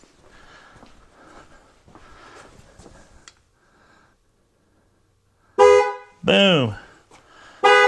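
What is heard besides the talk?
car horn honking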